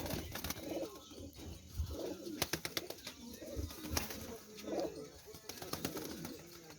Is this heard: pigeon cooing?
yes